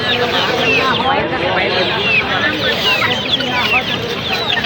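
Heavily crested chickens at a Bangladeshi poultry market cluck and chatter in a dense, busy chorus, heard close and loud beneath ongoing talk.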